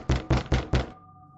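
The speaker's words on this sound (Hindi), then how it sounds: "फिर एक और दस्तक हुई।" Four firm knocks on a trapdoor in a quick, evenly spaced series, close and loud, followed by a low lingering hum.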